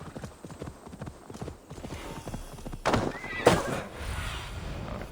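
Hooves clip-clop in a galloping rhythm, then a horse neighs loudly twice in Assassin's Creed Valhalla, with a faint voice underneath.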